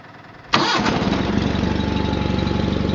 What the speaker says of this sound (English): I'll go ahead and fire the 318 up and we'll turn it on.